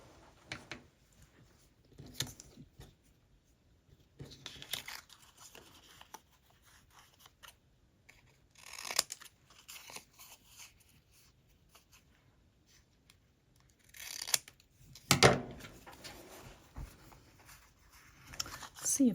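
Scissors snip through slick, vinyl-like vintage slides at a craft table, the cuts coming in short scattered bursts with quiet stretches between, close and fairly soft.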